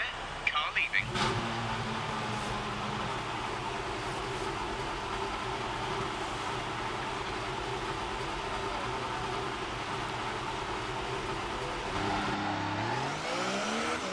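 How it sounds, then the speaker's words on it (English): A Formula 1 race car in the F1 2018 video game leaves the pits, a steady close engine drone with a whining tone after an opening clatter, climbing in pitch as revs rise near the end. "Car leaving."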